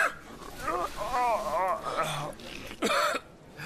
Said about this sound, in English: Carrying a mucus cough and cold around all day can be exhausting.